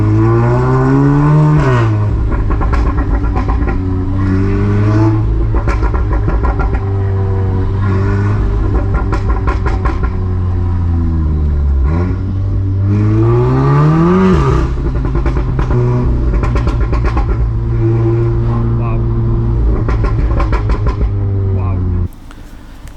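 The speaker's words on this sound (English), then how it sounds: "So it is time for exhaust noises." Exhaust of a Revo-tuned 500bhp VW Golf R revving in sport mode with overrun, loud and raspy, with rising and falling engine pitch sweeps through sustained close blasts.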